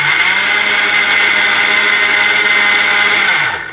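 A Philips blender runs at full power, a loud steady whirring motor drone held for several seconds before winding down at the end, with no talking.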